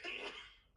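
A single close sneeze: a sharp, breathy burst that trails off within a second, with no talking.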